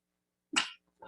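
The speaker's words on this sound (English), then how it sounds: "I'm gonna sneeze" A single short, sharp sneeze bursts out of silence, followed by a faint breath.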